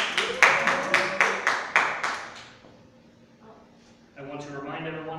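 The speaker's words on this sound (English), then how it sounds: "Claps." Audience clapping at a live sword-fight show, a short burst of rhythmic group claps, close and bright, fading out before a voice begins speaking.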